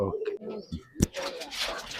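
Pigeons coo at a racing pigeon loft in low throaty murmurs, mixed with other bird noise and a brief sharp knock, while a person talks nearby.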